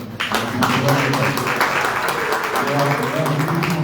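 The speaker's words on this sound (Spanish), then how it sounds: "un aplauso para Amanda." An audience claps at a literary anniversary event for a writer. The clapping is full and fairly close, with voices and room sound mixed in underneath.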